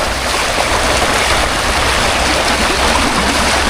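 A strong river current rushes steadily, a loud, close, unbroken roar of churning water with no voices over it.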